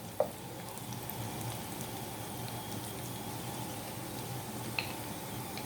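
Dried red chillies fry in hot oil in a pan for a mutton curry, a faint, steady sizzle and crackle with a couple of sharp pops, heard alone up close.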